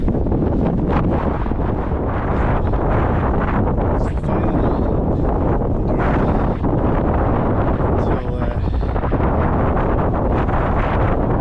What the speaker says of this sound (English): it's very windy this direction just now.